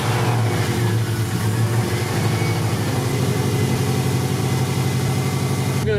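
A Peugeot 206 rally project car, being transformed with a Subaru engine, runs steadily after start-up, a loud, close, rough idle with a pulsing low rumble and no voices.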